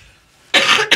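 A single harsh, close cough, loud and abrupt, breaking into two bursts after a quiet moment.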